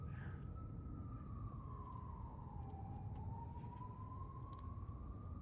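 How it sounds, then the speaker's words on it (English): An emergency siren wails steadily in the background throughout, its pitch sliding down and back up against a constant low rumble, moderately distant. "I hear a siren, but I don't hear a jet."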